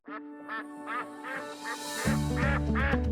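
A Pekin duck gives a run of loud nasal quacks, about seven in a row at a steady pace and close up, with a deeper overlapping honk joining in the final second.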